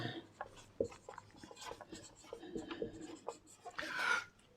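Chalk or marker strokes on a board while equations are solved, a series of short scratching and rubbing sounds in an irregular rhythm, ending with a longer stroke, alongside quiet speech-like sounds.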